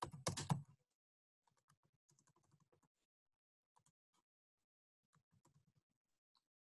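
Quiet typing on a computer keyboard while searching a library website: scattered, faint clicks in short bursts after a brief louder noise at the start, with no one talking.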